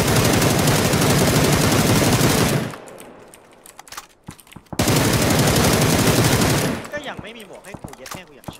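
Heavy automatic gunfire in the battle game PUBG, loud sustained bursts of rapid shots in two long volleys separated by a quieter gap with scattered single shots and echoing tails.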